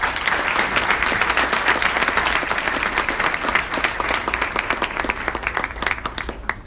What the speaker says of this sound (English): So please give another round of applause to Mr.